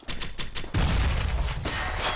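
Video game gunfire in bursts: quick repeated shots at first, then a heavy boom-like blast that carries on with rumbling fire. Loud, close and dense, with no talking.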